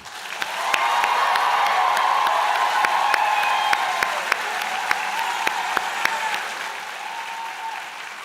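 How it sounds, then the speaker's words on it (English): A convocation audience gives sustained applause with scattered cheers and whoops for an engineering technology graduating class, a dense, even wash of clapping from a large crowd that fades slightly toward the end. "How about one last round of applause and huge cheer for all of the graduating class of 2019."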